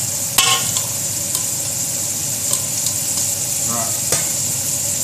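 Oil bubbles and sizzles steadily in a wok as potato chips deep fry, a continuous close hiss with a few sharp crackles and clinks over a busy kitchen background.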